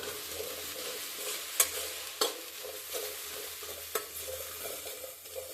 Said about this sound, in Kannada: ಈಗ ಪೇಸ್ಟ್ ಮಾಡ್ಕೊಂಡು ನಾನು ಬನ್ನಿ ಚೆನ್ನಾಗಿ ಬೆಂಡೆಕಾಯಿನ ಫ್ರೈ ಮಾಡ್ಕೊಬೇಕು